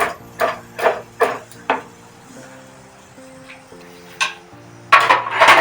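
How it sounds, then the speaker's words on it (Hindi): Dishes and pots being washed at a home kitchen sink, with several sharp clinks of metal utensils and vessels knocking together in quick succession, then a pause and a louder rush of clattering and water near the end. "तब तक मैं बर्तन धो लेती हूँ"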